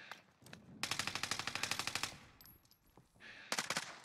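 Rapid bursts of automatic LMG fire from the RAAL in the Warzone video game, a steady run of about fifteen loud evenly spaced shots, then scattered shots and a final short burst.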